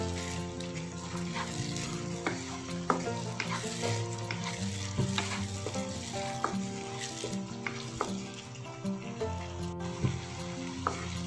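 Kerala ginger curry bubbling and frying in oil over a very low flame, a close, steady sizzle with soft popping and occasional stirring clicks, no voices.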